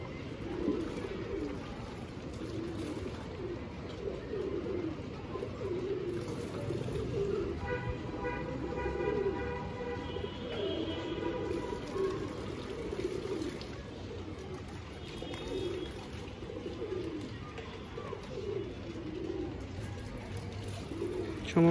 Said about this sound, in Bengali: এই যে কবুতর উঠতেছে, খেলতেছে আসলে অ্যাকচুয়ালি কবুতর, এখান থেকে ওখানে যাচ্ছে